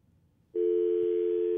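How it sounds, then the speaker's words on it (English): A steady telephone dial tone cuts in abruptly after a brief near-silent moment and holds unbroken and loud until the end. "That sounds like a dial tone to me."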